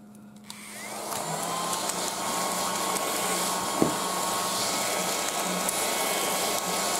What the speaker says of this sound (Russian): Так, где мой пылесосик?